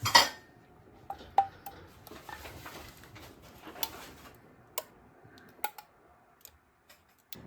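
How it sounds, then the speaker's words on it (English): Glass canning jars are lifted out of a boiling-water canner with jar lifters while making cowboy candy, with sparse sharp clinks and taps of glass and metal amid quiet kitchen background. "now we're gonna take out the jars. Jar lifters."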